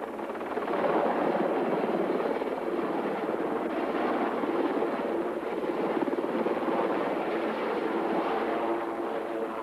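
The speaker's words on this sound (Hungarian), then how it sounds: "Helikopter! Menjünk!" A helicopter in a Hungarian action film flies close by, its rotor and engine making a loud, steady, dense roar that holds throughout without any talk.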